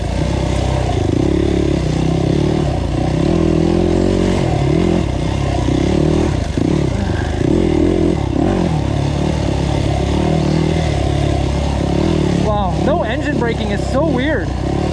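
A GAS GAS EC250F enduro motorcycle is ridden along a trail, its engine droning and revving steadily and loud and close, with rattling and scraping from the terrain and a rider's voice heard over the engine.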